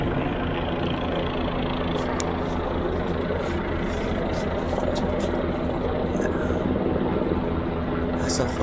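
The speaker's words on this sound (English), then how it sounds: "That's a helicopter." A steady, droning rotor and engine rumble carries on throughout, like a helicopter passing at a distance, with faint voices talking under it.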